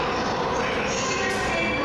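A JR 209 series 500 train departs a station platform, a steady dense rumble of motors and wheels with wind noise, loud and close throughout.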